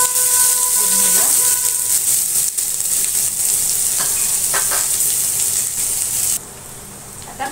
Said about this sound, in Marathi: आता कांदा गुलाबी कलर होईपर्यंत भाजायचा आहे.